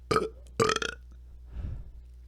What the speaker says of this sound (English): Are we still keeping track of burps?